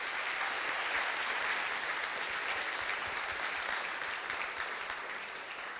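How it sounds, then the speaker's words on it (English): Delegates at a Model United Nations opening ceremony clap, a steady wash of distant, even applause filling a large room, quiet overall and fading slightly at the end. "now clapping is in order"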